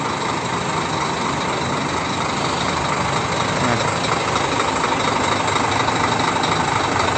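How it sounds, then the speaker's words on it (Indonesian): The engine of an SR2 double-decker bus built for Bangladesh runs with a loud, dense, steady rumble heard up close and unbroken for the whole stretch. "Suara mesinnya sangat garang."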